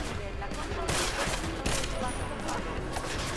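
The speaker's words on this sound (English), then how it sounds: "I have my new battle rifle." In Deus Ex: Mankind Divided, a battle rifle is fired in dense bursts of rapid, loud gunshots, one rattling volley after another, with a voice faintly talking underneath.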